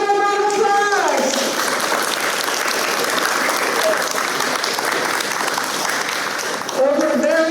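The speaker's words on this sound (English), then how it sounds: "Let's give him a round of applause." A crowd at a virtual fifth-grade recognition ceremony gives a full, steady round of applause lasting several seconds, with a voice speaking briefly at the start and again at the end.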